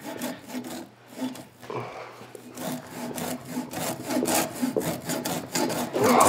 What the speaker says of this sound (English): It's going to be actually hard because it's rubbery, so it's going to stick to the saw.